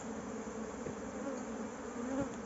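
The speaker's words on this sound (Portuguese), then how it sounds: "Estão bastante agitadas as abelhas agora" A dense swarm of agitated honeybees buzzes continuously around a smoked hive, a steady droning hum with no voices.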